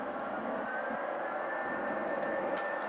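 Jet engines of a Boeing 787-9 in an American Airlines livery, simulated in the Microsoft Flight Simulator game, give a steady, even whine and rumble with a sustained high tone, droning evenly throughout with no talk.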